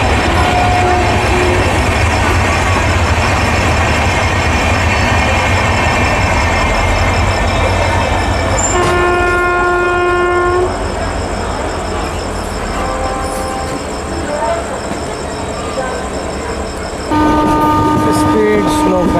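A passenger train on the New Delhi to Gaya route being overtaken by another train, loud continuous rumble and clatter with sustained horn tones, close and steady, with some talk over it.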